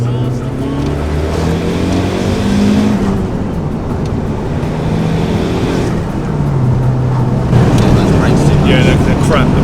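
A Mazda 323 GTR 4WD turbo pulls hard in second gear, its engine droning loud and close from inside the cabin with rising pitch and a brief shift-like change near the end, a voice faintly underneath.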